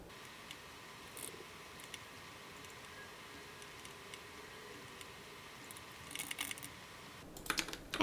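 Faint keystrokes on a computer keyboard, with the Alt and arrow keys pressed, sound as sparse soft clicks, then a quick cluster of taps toward the end, recorded close against a quiet room hum.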